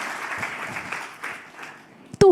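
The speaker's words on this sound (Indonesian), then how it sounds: "Boleh tepuk tangannya yang paling meriah buat Yesus Tuhan kita." A church congregation applauds in a steady patter of many hands that gradually thins, followed by a brief louder burst at the end.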